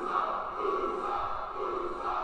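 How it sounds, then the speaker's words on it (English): A wrestling arena crowd roars and cheers for Jey Uso as he interrupts Paul Heyman and Solo Sikoa, a steady, distant-sounding wash of voices holding for a couple of seconds. "the crowd showing Jey Uso love"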